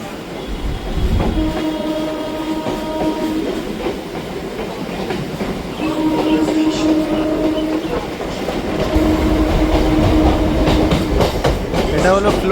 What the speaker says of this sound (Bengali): ট্রেন আমাদের ছেড়ে যাচ্ছে ইডেন গার্ডেন স্টেশন